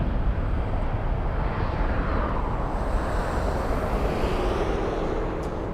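A Delta Airbus A321 lining up on the runway at LAX gives off a continuous low jet rumble mixed with wind buffeting on the microphone. The sound holds steady throughout and no one speaks.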